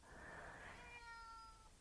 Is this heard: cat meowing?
yes